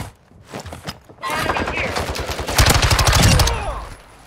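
Gunfire in the video game Call of Duty Warzone 2.0 builds into a dense, loud machine-gun burst of fast repeated shots near the end, after a quieter stretch with scattered sounds. Voices talk over the fighting.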